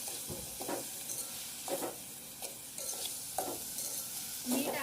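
Onion and tomato frying in oil for chicken pulao are stirred in a pan, giving a soft continuous sizzle broken by several distinct scraping strokes of a spoon, fairly quiet and with no talking.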